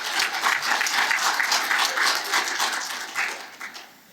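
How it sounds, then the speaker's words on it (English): Audience applause at an energy-sector panel session on vocational professions: a dense, sustained patter of many hands clapping close by, steady for several seconds before thinning and fading toward the end. "let's give a round of applause to everybody"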